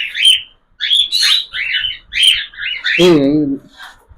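Cockatiels chirp in shrill, rapid bursts close by, several calls in quick succession ending with a harsher squawk.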